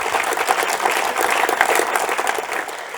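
Audience applause at an award ceremony, the Premio Navicella Sardegna: steady, dense clapping from a large crowd filling the hall, loud and sustained throughout, tapering slightly at the end.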